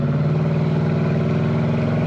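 The engine of a 1971 Pontiac LeMans Sport convertible gives a steady, deep rumble at idle, close and continuous, with no voices over it.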